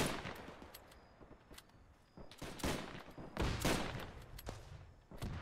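Tank fire and other gunfire in the video game Arma 3, with repeated sharp bangs and bursts at irregular intervals, some sounding distant and muffled, others heavier and closer.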